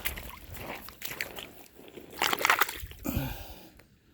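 A found stone axe being washed off in water, with close sloshing, splashing and squishing sounds in irregular bursts at moderate volume.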